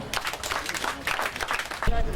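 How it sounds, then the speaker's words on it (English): An audience applauds a speaker for a local government's gift of a vehicle to a division, the clapping steady and moderately close, with a louder burst toward the end. "I think we should clap for them"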